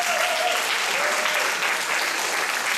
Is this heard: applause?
yes